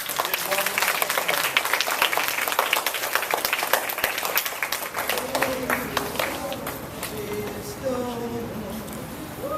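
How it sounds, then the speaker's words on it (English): A crowd applauds with dense, rapid clapping that fills the whole stretch, steady and fairly loud, with some voices mixed in. "let's give her a round of applause"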